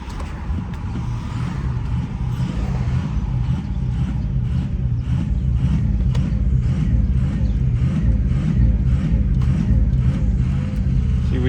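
A 2003 Ford 6.0 diesel with an ICP leak idles low and steady in neutral, a continuous loud engine rumble holding the same drone throughout with faint ticking pulses on top.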